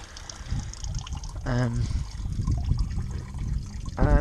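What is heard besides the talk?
coolant draining out of a car engine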